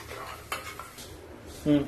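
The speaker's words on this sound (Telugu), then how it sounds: "గిన్నెలోకి తీసేస్తున్నాను." Golden fried bitter gourd is scooped from the pan into a bowl with several light metallic clinks and scrapes of a spoon against cookware, close by and fairly quiet.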